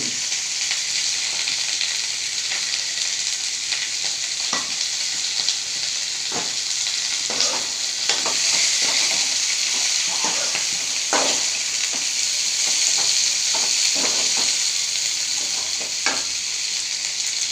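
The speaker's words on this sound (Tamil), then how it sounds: "பிரண்டையை போட்டு நல்லா வதக்கிக்கலாம்." Pirandai (adamant creeper) sautéing with salt in a pan, a steady broad sizzle running throughout with scattered spatula scrapes and stirring clicks, fairly loud and close, no voices.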